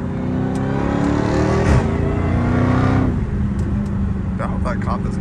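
A Dodge Challenger Hellcat Redeye engine drones steadily while driving, its pitch climbing briefly as it revs, then settling back into a smooth, loud cabin hum.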